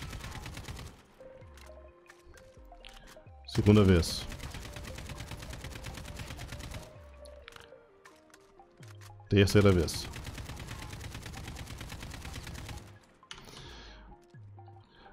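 In Call of Duty: Warzone, two loud bursts of rapid automatic AK rifle fire, each about a second long, separated by quieter clicks while someone speaks calmly in Portuguese between them.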